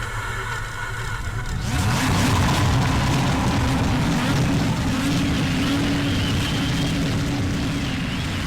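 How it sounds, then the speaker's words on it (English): Several race car engines start in the iRacing sim during a Road to Indy eSeries round. They catch and rise into a loud, sustained, layered roar over a low rumble. "Start your engine."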